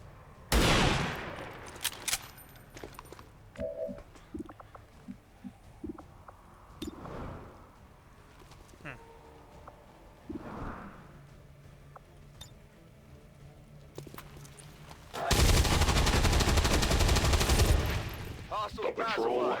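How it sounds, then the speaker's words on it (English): Sniper rifle shots in the video game XCOM 2 come as a few sharp cracks spread through game noise, followed by a long, loud, dense burst near the end. "I'm going to fire a sniper rifle."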